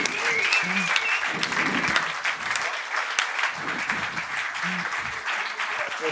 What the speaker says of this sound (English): Give yourselves a round of applause. An uh, applause for the audience.